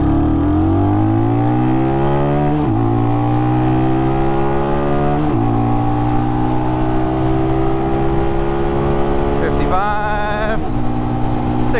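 A Cruiser 250 motorcycle fitted with a 32-tooth rear sprocket accelerates from 0 to 60 mph, its engine revving up loud and close through several distinct gear shifts, each pitch climb dropping back at the next change.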